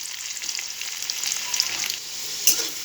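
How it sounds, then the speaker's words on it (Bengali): Cut potato pieces fry in hot oil with salt, a bright, close crackling sizzle that holds steady throughout, with a small pop near the end and no voices. "এখানে কিছু আলু টুকরো করে কেটে নিয়েছি, এটাকে এখন আমি তেলের মধ্যে দিয়ে ভেজে নেব।"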